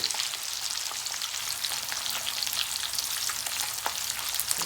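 Sausages sizzle steadily in a hot frying pan, a loud, dense, continuous crackle with occasional sharper pops and no voices.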